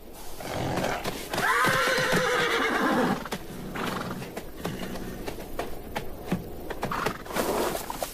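Horses or zebras in the wild, with a loud, close whinny near the start, further neighs and snorts following, and hooves clip-clopping irregularly throughout.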